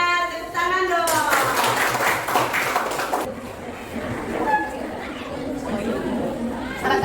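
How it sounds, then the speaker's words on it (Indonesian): Students in a grade 9 social studies class at an Indonesian junior high school clap for a presenting group, a burst of scattered handclaps lasting a few seconds beneath steady classroom chatter and voices. "Tepuk tangan dong"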